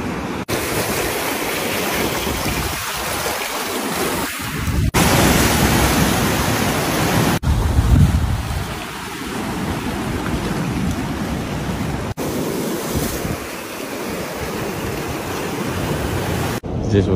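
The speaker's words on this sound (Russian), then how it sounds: "Все, значит, приехал на побережье Японского моря." Surf rolls along the Sea of Japan coast as a steady, loud broadband roar that continues unbroken, with swells in loudness, for the whole stretch.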